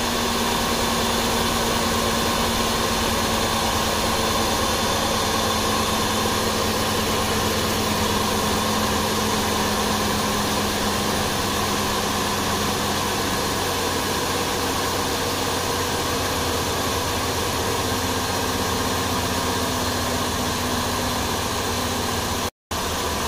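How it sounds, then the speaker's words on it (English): A 2006 Cadillac DTS with the 4.6 L engine idles steadily while its A/C compressor runs, a constant broadband whirring drone with a low hum that holds unchanged for over twenty seconds before a brief cut near the end. "Compressor turned on."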